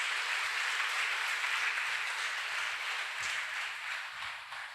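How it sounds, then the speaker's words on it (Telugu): Audience applause at a church anniversary celebration for St. Anthony's temple, a steady broadband wash of many hands clapping together, fairly distant and even, slowly fading near the end with no talking. "ఒకసారి గట్టిగా చప్పట్లు కొట్టవచ్చు కదా"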